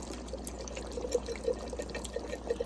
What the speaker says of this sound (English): I'm going to add in my canned veggies now